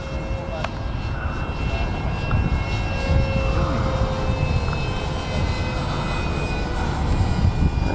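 A Dynam Meteor RC EDF jet model flies by, its electric ducted fan giving a steady, loud, continuous whine and rush of air that holds for several seconds, with a faint voice underneath.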